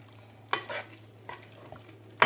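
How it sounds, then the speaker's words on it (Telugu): Spoon scraping and stirring fish pieces through masala in a pan for fish korma, a few distinct soft strokes over a low steady sizzle, close and fairly quiet. "మొత్తం మసాలా అంతా కలిసేలాగా కలుపుకొని"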